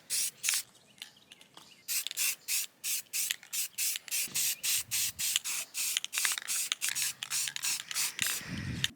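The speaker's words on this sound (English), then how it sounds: "I'm going to go ahead and start painting with charcoal gray and black" Short bursts of spray paint hiss rapidly one after another as a full-sized 3D-printed rifle is coated in charcoal gray and black. The bursts are close and even, with brief gaps and occasional small handling noises.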